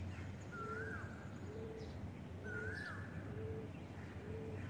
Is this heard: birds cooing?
yes